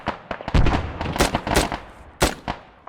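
Rapid bursts of gunfire in the video game Arma 3, fired at a vehicle gunner: loud, close sharp shots in uneven clusters, several cracks overlapping with a few pauses between volleys.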